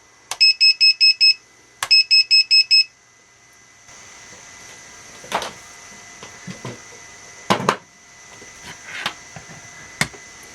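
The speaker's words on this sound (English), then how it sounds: "So every time you flip that channel, it alarms." Loud electronic beeping from an RC model receiver's low voltage and lost signal alarm, set off by an auxiliary channel: two rapid bursts of about five shrill beeps each, then softer intermittent clicks and handling noises.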